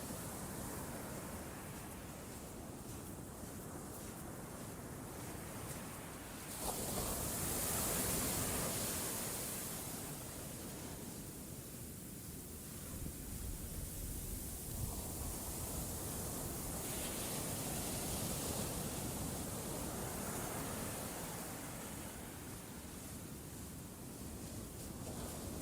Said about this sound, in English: waves flowing in and out